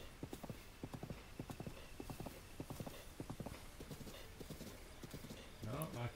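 Horse hooves clip-clop in a steady, rapid rhythm while riding in The Legend of Zelda: Breath of the Wild, continuing under people talking and ending with a brief louder sound.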